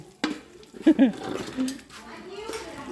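Cups and dishes are washed at a busy communal washing station after a large shared meal, with ceramic clinks and clatters, water sloshing and voices talking nearby.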